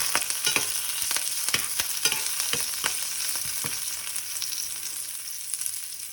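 Curry leaves and green chilli pieces crackle in hot tempering oil, a loud close sizzle with a burst of sharp pops early that thin out over the following seconds, no voices.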